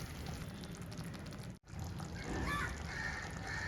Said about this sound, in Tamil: இப்போ 1 டம்ளர் எக்ஸ்ட்ரா ஊற்றுறேன்.